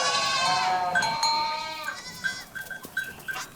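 Goat kids bleat in overlapping, wavering cries, loud and close at first, then shorter calls continue more sparsely.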